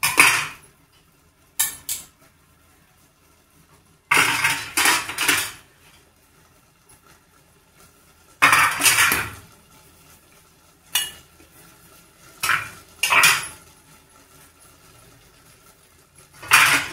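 Metal idli plates are handled while being oiled, giving separate bursts of clattering and clinking every few seconds, with near-silent gaps between them.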